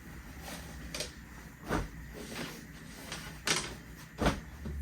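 Kids' clothes dumped drawer by drawer from a messy dresser onto the floor, heard as a few soft thumps and rustling bumps at irregular intervals against a quiet room, with no talking.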